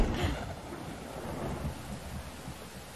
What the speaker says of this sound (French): J'ai peur quand il pleut comme ça.